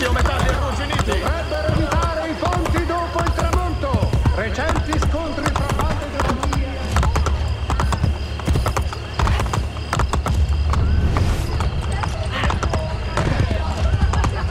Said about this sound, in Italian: Oh, ovviamente un cavallo che spawna davanti a me.